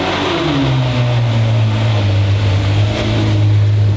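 A Ferrari engine rumbles loudly and steadily as the car pulls out of a shop, its low tone rising and then holding level, heard close and continuous with no voices.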